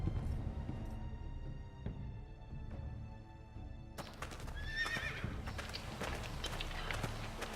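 A horse neighs and gallops in the Game of Thrones video game, the whinny loud and close, followed by rapid hoofbeats under game ambience and music.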